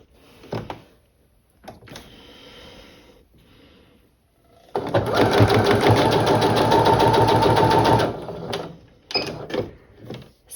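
Close sewing machine stitching a quilt block, running in a loud, even rapid burst for about three seconds between quieter handling clicks and fabric movement.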